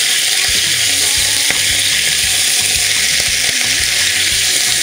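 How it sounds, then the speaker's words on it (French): Oxtail browns in a pot with a loud, steady, close sizzle and occasional spits and crackles throughout. No one talks. "On va faire revenir donc notre queue de bœuf."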